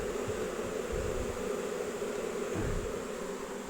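Honey bees buzz steadily while being pulled out by hand during a removal, a dense continuous drone that holds close and loud throughout with no talk.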